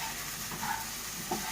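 Chicken with green peppers sizzling in a pan while being stirred, a steady frying hiss with soft scraping movements, close and continuous.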